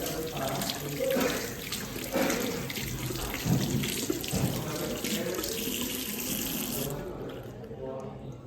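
Running tap water pours steadily into a sink as hands are rinsed during surgical hand washing, a continuous close splashing rush that stops abruptly near the end.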